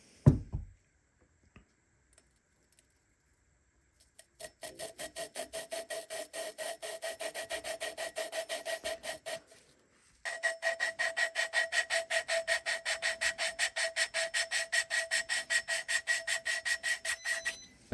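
Engine valves on a 1983 XR200R are lapped by hand with a suction cup tool, making quick, rhythmic gritty scraping strokes in two long runs separated by a short pause, after an initial knock.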